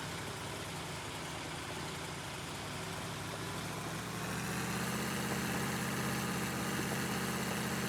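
A tractor engine idles steadily in Farming Simulator 19, a low, even rumble that grows slightly louder and fuller about halfway through, with no talking.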